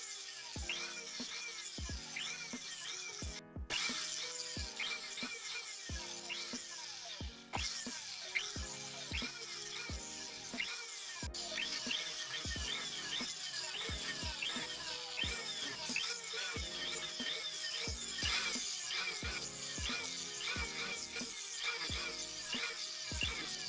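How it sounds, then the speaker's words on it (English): A pendant rotary tool buffs a solid silver curb-chain bracelet with a bristle wheel and tripoli, then a wool wheel and rouge, giving a continuous high whir with rapid rhythmic ticks and scraping throughout. "I use a bristle pendant cap and tripoli, and then a wool wheel and rouge to polish the bracelet"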